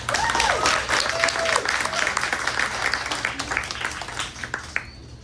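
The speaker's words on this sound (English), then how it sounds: "give them a round of applause" An audience at a live book launch applauds fifteen new authors with steady, dense clapping that fills the room, a voice briefly speaking over the start before the applause tapers off near the end.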